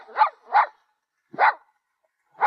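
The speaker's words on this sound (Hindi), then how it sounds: "ये तुम्हें देखकर भौंक रहा है।" A dog barks alone in four sharp, separate barks, two in quick succession, then a pause, one more, and another at the end, fairly close and clear.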